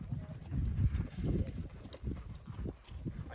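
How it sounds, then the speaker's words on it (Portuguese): Horse hooves clip-clop on a cattle farm during a roundup of escaped cattle, a steady, close, fairly quiet run of irregular thuds over a few seconds with faint background noise. "cara tá num cavalo muito louco ali"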